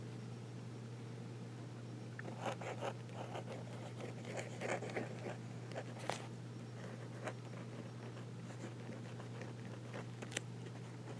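A fountain pen with an extra fine nib scratches across journal paper, producing faint, intermittent scritching strokes and light taps over a quiet, steady background hum.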